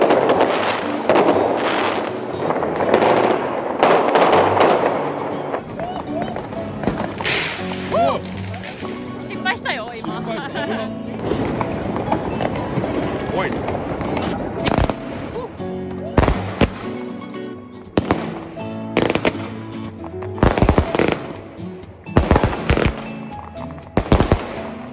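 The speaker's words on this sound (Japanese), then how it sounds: "まだ花火 出るけど、 これすごい近所迷惑だよね。" New Year fireworks go off close by in dense, rapid bursts of cracks and bangs, crackling strings like firecrackers, with excited voices talking and cheering over them throughout.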